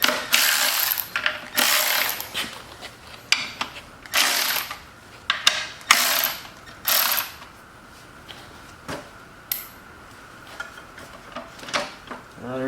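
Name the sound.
loosening screws on an antique Lawnboy edger cover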